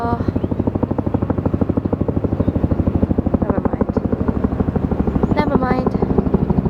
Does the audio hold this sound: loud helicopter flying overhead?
yes